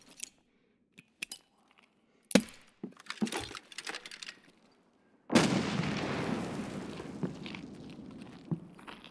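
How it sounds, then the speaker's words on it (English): A dummy grenade goes off in the video game Escape from Tarkov: scattered footsteps and small clatters lead to a sudden loud blast that rolls out into a long, slowly decaying rumble. "Alright, I'm gonna chuck another dummy grenade."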